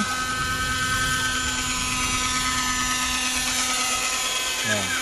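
A Raptor RC helicopter flies over a white sand beach, its high-pitched rotor and engine whine droning steadily and fairly close throughout, with faint background noise and a brief shift near the end.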